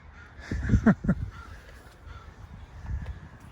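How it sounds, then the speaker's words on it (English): A few harsh caws sound close together early on, then a quieter call follows after a pause, over faint outdoor background. "You can hear the ravens and the crows,"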